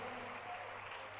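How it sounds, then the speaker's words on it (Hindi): Brief, faint applause from an audience at a Hindi poetry recital, a soft continuous wash of clapping lasting about a second. "एक बार जोरदार तालियां बजाकर हम उनका अभिनंदन करें।"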